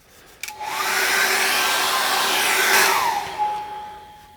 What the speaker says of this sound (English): Let's get the hairdryer and dry that off